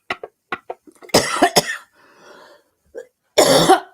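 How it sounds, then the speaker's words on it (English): A person coughs several times: a few short, sharp coughs first, then a louder cluster of harsh coughs with some throat clearing, a pause, and a final strong burst of coughing, all close and with no other sound between. "Got a cough."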